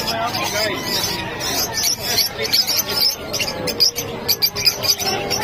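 Small birds at a pet market in Bocaue, Bulacan, including African lovebirds, chirp in rapid high repeated tweets throughout, loud and close, over a background of crowd murmur and nearby talk.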